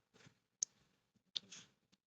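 Computer mouse clicks while downloading Raw Accel, two sharp close clicks with soft scraping movement in between, quiet and isolated.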